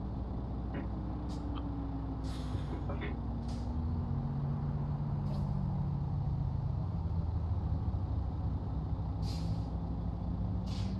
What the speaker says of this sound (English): Boy, do I love the sound of this engine.